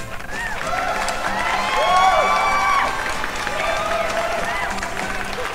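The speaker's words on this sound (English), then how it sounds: "let's have a big round of applause for Rehan Yusuf's upgrade" Studio audience applause and cheering swell to a peak and then settle into steady clapping with scattered whoops, all fairly close and without speech over it.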